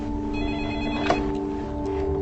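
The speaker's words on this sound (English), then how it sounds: "Admiral Smith is woken up by a phone call" Telephone ringing in the night as an admiral in London is woken at 1:37 in the morning: a steady, trilling electronic ring that runs through the whole clip at moderate loudness, with no talk over it.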